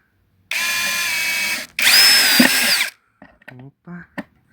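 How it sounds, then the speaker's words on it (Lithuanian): A power drill drives a screw into wood in two loud, close, sustained whirring bursts, the second rising slightly in pitch, followed by brief talk. "dėdam kitą varžtą, sukam"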